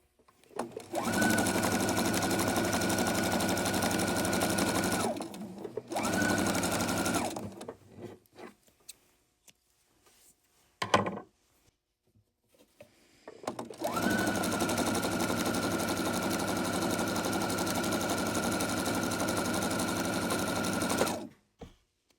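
A sewing machine stitches rows of a black and white quilt made from 5 inch squares in long steady whirring runs, stopping and restarting with brief quiet gaps and a few small handling clicks between.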